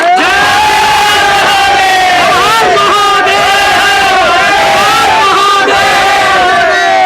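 A village fair crowd shouting a jaikara chant to Mahadev, loud massed voices roaring and cheering together continuously, close and dense for several seconds.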